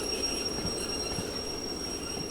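A DE2 shunter locomotive braking in the Derail Valley video game gives a sustained high-pitched wheel and brake squeal over a low rolling rumble, continuous and fairly close.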